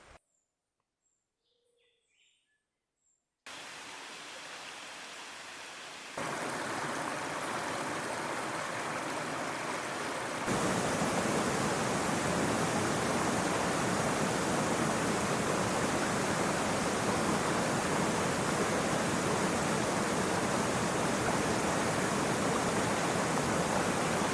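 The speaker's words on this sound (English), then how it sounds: "You can literally hear the water from here." Water rushing at a swimming hole in the El Yunque rainforest, Puerto Rico, a steady broadband roar that starts after a quiet moment and grows louder in steps before holding constant, with faint bird chirps early on.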